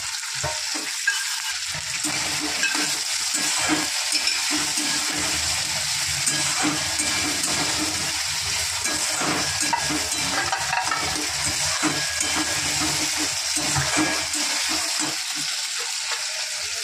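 Potatoes fry in a pan for a dal dish, giving a steady, dense sizzle with occasional stirring scrapes, close and fairly loud throughout with no talking.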